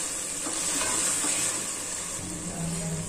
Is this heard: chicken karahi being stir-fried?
yes